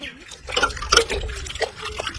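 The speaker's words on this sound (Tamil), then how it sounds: "இது என்ன பண்ணணும்னா தண்ணியில அலசணும்" A cloth is swished and rinsed in a bowl of water, giving short sloshing and dripping sounds close up, with a faint voice underneath.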